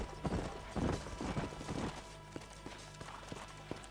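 Horses' hooves clip-clopping in the video game Red Dead Redemption, a quick loud run of hoofbeats at first, then slowing into sparse, fainter single clops.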